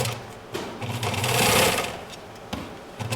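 A home sewing machine stitching fabric: a steady, fast mechanical whir and rapid needle chatter runs throughout, swelling in speed mid-way and then easing, close and loud with almost no talk.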